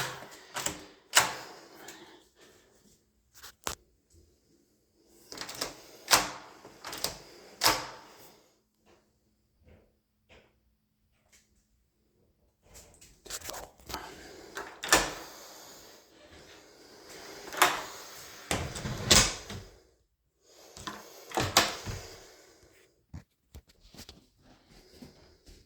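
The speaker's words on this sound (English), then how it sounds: "heavy duty classroom door lock." A heavy-duty classroom door lock is worked repeatedly: bursts of metallic clicks, clacks and rattling latch movements come close and fairly loud, separated by short quiet pauses.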